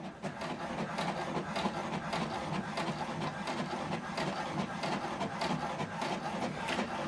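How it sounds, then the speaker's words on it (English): An HP DeskJet 2810e inkjet printer printing a document, with a steady mechanical whir and rapid regular clicks of the print head shuttling back and forth, close and continuous with no talk. "Now it's printing the document."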